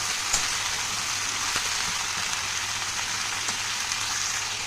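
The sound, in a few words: stirring papaya, potato, eggplant and ridge gourd frying in pan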